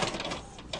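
A printer newly registered with Google Cloud Print starts up and begins printing, giving a steady mechanical whir and rolling feed noise with a brief louder clack near the end.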